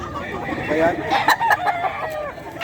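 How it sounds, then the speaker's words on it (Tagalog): Roosters crow and cluck close by at the Bocaue pet market, several overlapping calls rising and falling over a busy background with faint voices. "Mga cock na to guys."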